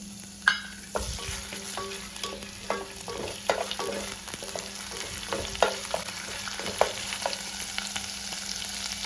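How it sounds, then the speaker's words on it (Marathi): Garlic and green chili fry in a spoonful of oil in a hot pan, giving a continuous crackling sizzle with frequent small pops and light scraping stirs, close and fairly loud. "इथे पॅन गरम करायला ठेवलेला आहे आणि त्याच्यात टाकलेला आहे एक चमचा तेल तर आपण याच्यात टाकूया लसूण आणि मिरची"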